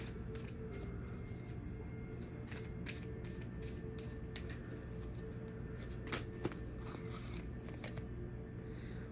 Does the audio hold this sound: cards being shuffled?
yes